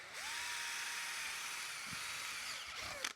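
A power drill runs steadily in a workshop while mounting a boom arm for a heavy old rubber hose, its continuous whine holding for about three seconds before stopping abruptly with a small clunk.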